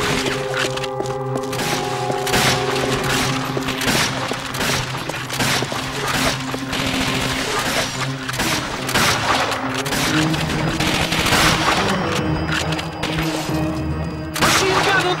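Sustained machine gun fire in a Call of Duty: Finest Hour battle, rapid loud bursts layered with explosions and crashing impacts, continuing densely for the whole stretch with no pauses.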